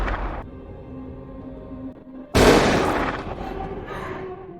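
Gunshots in a horror film, a sudden loud sharp blast that cuts through a quiet, humming background and rings out in a long decaying tail.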